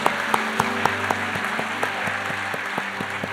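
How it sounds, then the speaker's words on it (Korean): A church congregation at a Wednesday worship service claps together in a fast, steady rhythm, the dense applause filling the room with sharp regular beats throughout. "오늘도 큰 은혜 주실 하나님께 영광의 박수 올려드리겠습니다"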